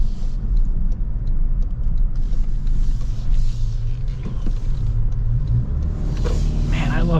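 A 2026 Toyota 4Runner TRD Pro rolls down the road, its low engine and tire rumble steady inside the cabin, with faint whooshes and a brief rise in engine note near the end.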